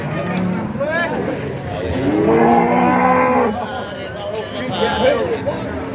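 Several cattle, Limousin-Brahman crosses and black Angus, moo loudly and repeatedly at close range at a cattle market, long drawn-out lowing calls overlapping amid a busy crowd with people talking.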